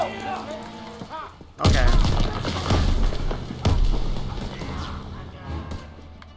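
Grenade explosion in Call of Duty: World War II, a heavy close thud followed by a second boom and rumbling debris, with a short spoken reply and battle noise around it.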